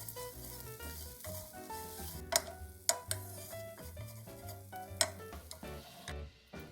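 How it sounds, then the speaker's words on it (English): Seasoned bonito flakes are stirred in a pan with sesame seeds, giving soft scraping and gentle sizzling with a few sharp utensil clicks against the pan. "Mix so that the whole bonito flakes is seasoned"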